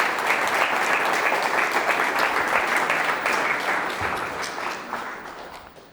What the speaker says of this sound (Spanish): os invito a darle un fuerte aplauso para llegar a su presentación